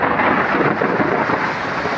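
A thunderstorm with heavy rain on a flooded roadside, a loud, continuous rumbling roar of thunder mixed with steady rainfall.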